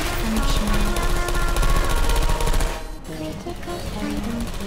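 Portal 2 turrets fire rapid, dense automatic bursts that stay loud and continuous for nearly three seconds, then drop to a quieter rattle with scattered electronic tones behind it.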